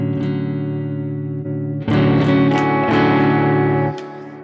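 Clean electric guitar through a Fender Deluxe Reverb amp profile captured on a Quad Cortex rings out in sustained chords, with fresh strums near two seconds and three seconds before fading, up close and alone.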